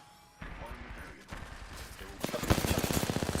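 Rapid gunfire in a ranked video game match comes in bursts, with scattered shots giving way to a fast, loud automatic rattle of evenly spaced rounds near the end.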